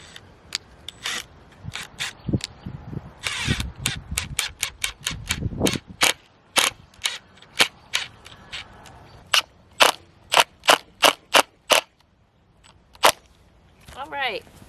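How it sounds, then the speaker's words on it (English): A drill driver runs screws through corner braces into wooden end pieces of a raised garden bed: short, sharp bursts of whirring and clacking, some rapid and clustered, then spaced single hits, close and fairly loud. "we're just going to go ahead and screw those onto our end pieces"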